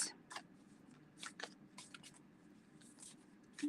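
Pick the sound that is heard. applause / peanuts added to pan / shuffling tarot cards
shuffling tarot cards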